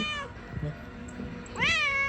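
A cat meows twice, a short faint mew followed by a louder, drawn-out meow close by, with little else around.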